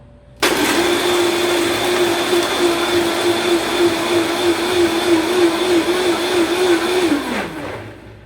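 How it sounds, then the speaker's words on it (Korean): An electric blender whirs loudly for about seven seconds mixing a Mai Tai cocktail with crushed ice, starting abruptly and winding down at the end, close by with no talking. "자, 블렌더를 닫고 잘 닫아주시고요. 약 8에서 10초간 블렌더를 작동시킵니다."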